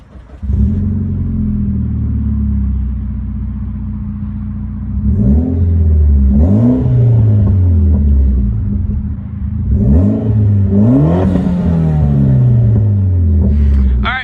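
A car engine idles with a low rumble, then is revved hard several times, each rev rising sharply and falling back, loud and close.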